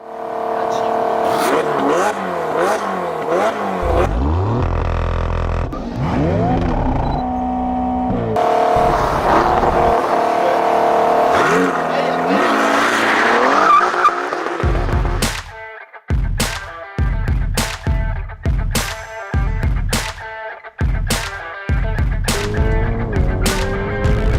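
A tuned Alfa Romeo Giulia Quadrifoglio and a Ferrari Portofino rev and launch, engines rising and falling loudly, then a sequence of sharp repeated pops and bangs; voices are heard too.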